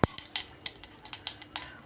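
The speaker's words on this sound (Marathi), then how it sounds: "आता याच्यामध्ये सगळ्यात अगोदर आपण मोहरी घालून घेणार आहे." Mustard seeds crackling and popping in hot oil in a pot, a quick series of sharp, close snaps at irregular intervals over a low sizzle.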